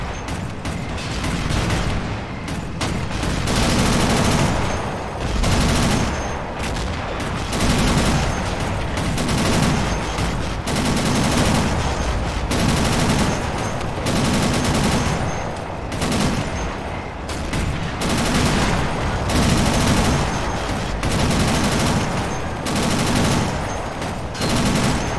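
Quad M45 anti-aircraft machine guns on an M16 halftrack fire in a video game, loud sustained bursts of rapid gunfire repeating in rhythmic waves with brief pauses throughout.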